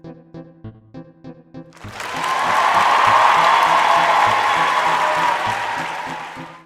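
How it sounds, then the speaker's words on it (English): A few seconds of a soft rhythmic tune, then a loud burst of crowd applause and cheering with whoops swells in and holds, fading slightly toward the end as the tune continues underneath. "Wait for applause."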